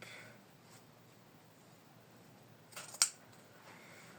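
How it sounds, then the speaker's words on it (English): Small scissors trimming embroidery threads on a machine-embroidered piece, a single quiet snip near the end, followed by a faint rustle, over a low hush with no speech. "we have to be careful not to trim the loop"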